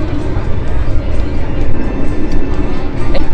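A steady, loud rumble of wheels and carriage noise fills the cabin of the moving Argo Semeru train on the Jakarta–Surabaya route, continuous and close without distinct events.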